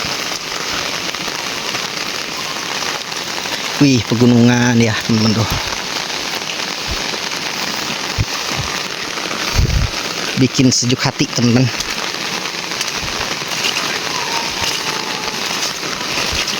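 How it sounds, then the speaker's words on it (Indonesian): Heavy rain falls steadily over village rice fields in misty hills, a constant loud hiss throughout, while someone speaks over it in two short stretches. "Soalnya ini hujannya deras."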